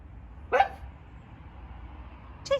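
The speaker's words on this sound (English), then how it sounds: "I'm just sitting outside for 2 seconds while the dog is barking" A dog barks twice outside on a cold, dark evening, two short, fairly distant barks about two seconds apart over a low background hum.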